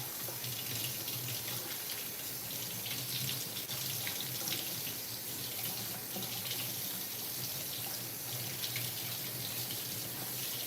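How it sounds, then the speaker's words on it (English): Tap water running steadily over a container top being rinsed in a sink, a continuous splashing gush heard up close without talk. "just rinse the top off"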